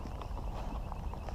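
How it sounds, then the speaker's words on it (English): A big draft horse walks along, its hooves clip-clopping in an irregular rhythm over a low rumbling background, moderately close and fairly quiet. "Look at this big draft horse."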